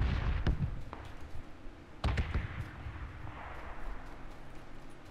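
Two sharp, booming gunshot-like reports with echoing tails, sounding distant, over a low noisy background with a few fainter pops, in the video game PUBG.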